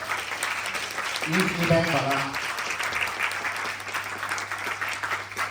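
An audience at a JCI event claps to welcome guest speaker Calvin Chan. The applause is steady and moderately loud, and a voice talks briefly over it.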